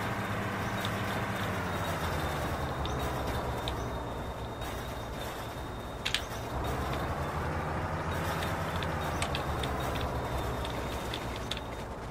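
Bedford lorry driving in The Long Drive game, a steady low engine drone and rolling rumble held for the whole stretch, loud and continuous with a brief clunk partway through.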